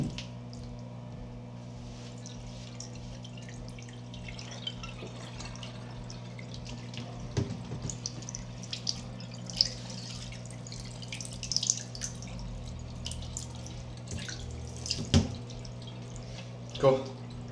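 Soak water from a mushroom monotub is poured out through an opened hole down a drain, with scattered drips, splashes and squishy wet sounds over a steady background hum.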